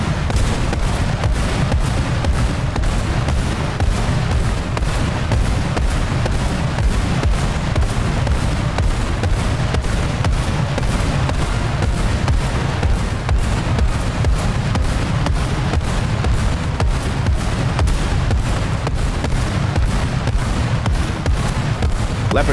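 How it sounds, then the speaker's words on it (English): Leopard tanks blowing apart under Calliope rocket barrages in War Thunder: a dense, unbroken roar of overlapping blasts and rumbling detonations that stays loud throughout. "Leopard tanks explode very well."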